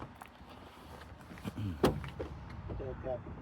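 A 1959 Triumph TR3 roadster's door gives one short clunk close by, partly under people chatting around the car.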